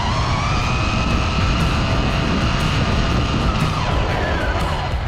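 An MJX RC car and a 6S Kraton drag race, with loud, close, high electric motor whine and tire roar that hold steady and sustained throughout.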